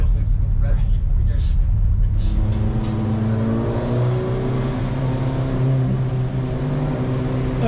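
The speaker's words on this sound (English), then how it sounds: "Okay, rolling start for the start of race one." Race cars engines rumble and rise as a pack moves off on a rolling start for race one on a greasy circuit at Oulton Park, a loud sustained drone building after a couple of seconds, with a voice talking over it.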